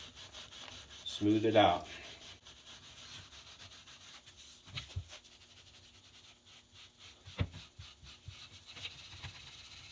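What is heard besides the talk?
super fine steel wool rubbing a Husqvarna hatchet handle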